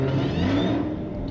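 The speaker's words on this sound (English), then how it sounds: "Well, I think all Hellcats have superchargers, but it sounds great." Supercharged Dodge Challenger Hellcat V8 at a drag strip, revving loudly and close by with a rising whine over a deep steady engine roar, alone without talk.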